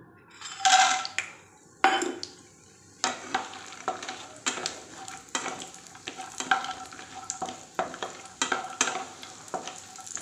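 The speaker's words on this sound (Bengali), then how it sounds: "এই বড়িগুলো দিয়ে আমি আগে বড়িটা ভেজে নেবো" Lentil dumplings fry in mustard oil, with loud, sharp spatula scrapes and clatters against the pan over a lighter sizzle, stirred in uneven bursts.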